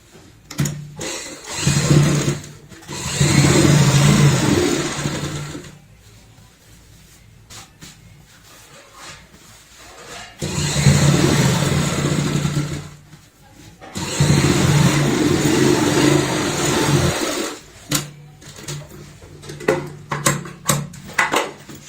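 A sewing machine stitches a shopping bag made from an old shirt in several bursts of fast, even whirring, close and fairly loud, separated by pauses with soft handling noises.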